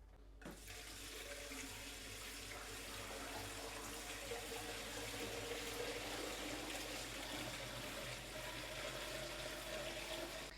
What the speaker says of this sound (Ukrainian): Водою залили поверх останніх баночок 2 см, вода виступає.